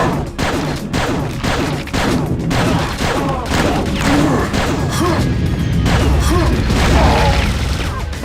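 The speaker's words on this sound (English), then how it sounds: "Those barrel explosions, they're amazing." Barrel explosions and weapon fire in Quake 2 Remastered, a first-person shooter played in local co-op, make a loud, dense run of bursts, crashes and booms that carries on with no break.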